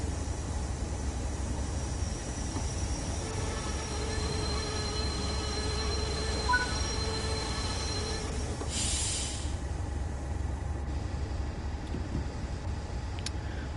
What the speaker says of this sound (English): we need to brake now, so we can turn on the slow speed control